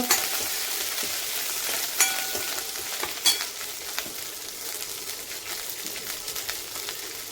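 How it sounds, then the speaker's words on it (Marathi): Green chili and crushed ginger-garlic paste fry in hot oil for a street-style ragda pattis, giving a continuous close crackling hiss with several sharp spatula clicks and scrapes against the pan throughout. "तेल छान गरम झाल्यावर मिरची, आलं लसूण ठेचा टाकायचा. ठेचा छान परतवून घ्यायचा."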